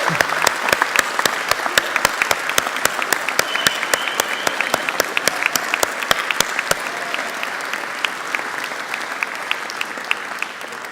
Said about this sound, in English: join with me in thanking them with a round of applause for all that they have done with you